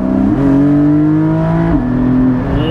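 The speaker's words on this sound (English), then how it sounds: "You can hear the sound of this car is already absolutely glorious." A Porsche 718 Spyder's engine revs up, holds a strong steady note, then drops and climbs again, loud and close with a clear rising and falling pitch.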